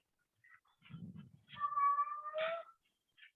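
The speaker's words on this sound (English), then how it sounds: "Can you guys hear the cat?" A cat gives a drawn-out, rising meow nearby, preceded by soft low rustling and followed by a short faint chirp, with no talking.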